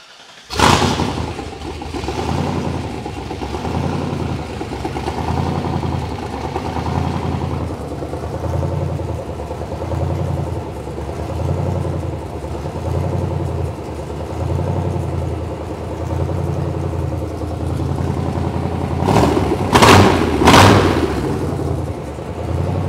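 A project car's engine cranks, catches and settles into a rough, lumpy idle with a pulsing rhythm, close and loud, followed by sharp clatters and revs toward the end.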